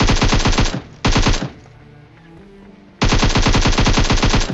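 Rapid automatic gunfire in a battle royale shooter, loud and close: a long burst, a brief pause with a quieter rumble, then another sustained stream of shots.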